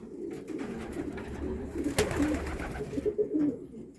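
Racing pigeons cooing nearby in Szczecin, Poland, low throaty coos repeating over a soft background rustle, with a sharp click partway through.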